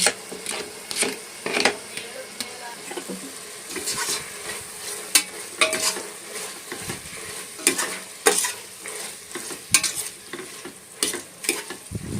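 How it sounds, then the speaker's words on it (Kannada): Onions fry in a pan as tomatoes go in, with sizzling under repeated close, rhythmic scraping and stirring strokes of a spoon against the metal, plus occasional knocks. "ಇವಾಗ ಈರುಳ್ಳಿ ಚೆನ್ನಾಗಿ ಫ್ರೈ ಆಗಿದೆ ಅದಕ್ಕೆ ಇವಾಗ ಟೊಮೊಟೊ ಹಾಕೊತಾ ಇದ್ದೀನಿ"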